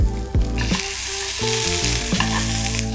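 Salmon fillet frying skin side down in a hot pan over medium heat, a steady close sizzle and crackle with a few brief spatters and pops, no voices.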